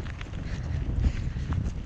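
Wind gusting outdoors at Castle Hill, New Zealand, a steady low rumble of buffeting against the microphone that swells and eases over a couple of seconds, with no voices.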